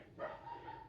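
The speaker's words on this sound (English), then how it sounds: "Excuse the dogs barking" Dogs bark faintly at a distance indoors: a couple of soft, brief woofs under quiet room tone.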